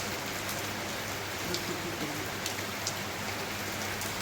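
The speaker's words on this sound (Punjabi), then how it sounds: "ਸਾਨੂੰ ਮੀਂਹ ਦਿਖਾਈਏ ਜੀ ਇਹ ਆ ਦੇਖੋ" Steady rain falls in a dense, even hiss, with a few sharper drops pattering on a nearby surface.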